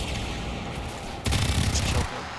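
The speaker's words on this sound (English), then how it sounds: "Those shotguns are pretty dangerous." Shotgun fire in the sci-fi shooter Warframe erupts as a dense, loud burst of blasts and impacts for under a second, layered over constant game noise and action.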